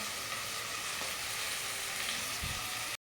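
Spices and curry leaves fry in a pan with a close, dense crackling sizzle that holds steady, joined near the end by a brief stir, with no talk.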